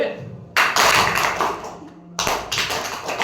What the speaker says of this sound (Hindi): ये यहाँ पहुंचेगा तभी ताली बजेगी